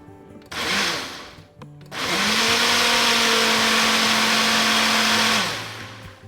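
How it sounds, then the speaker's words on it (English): A blender whirs briefly while blending canned peaches, stops, then runs loud and steady for several seconds before spinning down. "we're going to put a can of peaches in this nifty blender"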